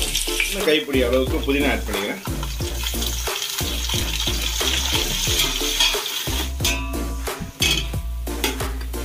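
Onions frying in ghee with cardamom and cloves for Dindigul Thalapakatti chicken biryani, a steady close sizzle and bubbling with stirring clatter throughout, a voice speaking briefly over it.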